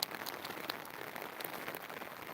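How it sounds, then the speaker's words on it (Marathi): Steady rain patters continuously on a surface, a soft, even hiss with scattered drop taps throughout. "काल लय पाऊस आज लय पाऊस"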